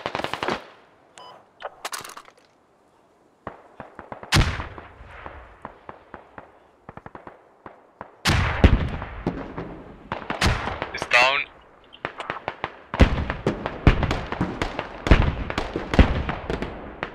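Bursts of sharp gunfire in the video game Squad crack and rattle in irregular volleys, some rapid and automatic, with German voices talking quietly between and under the shots.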